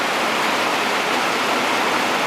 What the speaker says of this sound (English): So the river is starting to flood a bit.